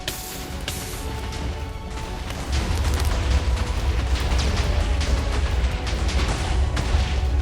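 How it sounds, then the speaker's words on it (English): A sustained explosion in the Minecraft video game, a dense low rumbling roar with scattered crashing bursts that grows louder partway through and continues steadily, with no talking. "the explosion is finally over"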